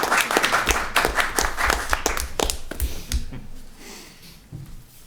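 Brief round of applause in a school committee meeting room, a scattered burst of clapping that is loud at first and then thins out and fades over a few seconds, with no one talking over it.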